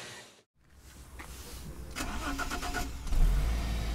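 A Fiat Coupé with a five-cylinder 20-valve turbo engine cranks and fires up, the engine catching after a short silence and settling into a loud, steady rumble close by.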